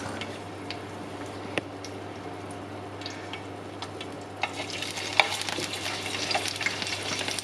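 Seitan fries in oil with a soft, steady sizzle and scattered small pops, growing louder and denser halfway through as the bubbling picks up.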